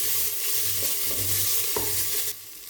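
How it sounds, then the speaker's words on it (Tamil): Ginger garlic paste sautés in a pan for paneer pulao, giving a dense, close sizzling hiss with faint stirring scrapes. The sizzle stops abruptly near the end. "இப்போ நம்ம இஞ்சி பூண்டு விழுது சேர்த்துக்கலாம். சேர்த்து நல்லா வதக்கிக்கலாம்."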